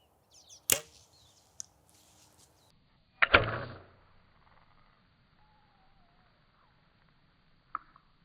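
Arrows shot from a bow strike a card target outdoors in wind: a sharp crack near the start, a louder thudding impact a few seconds later and a faint tap at the end, with quiet stretches between.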